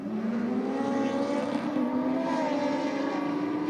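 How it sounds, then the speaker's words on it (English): A supercharged Kawasaki H2 motorcycle roars down a drag strip at a race event, a loud sustained engine whine with the pitch gliding as it accelerates, heard from a moderate distance with no voices over it. "The torque that supercharged motor is producing is just really throwing those bikes towards the finish line at warp speed"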